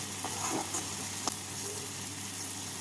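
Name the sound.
mutton keema frying with spice masala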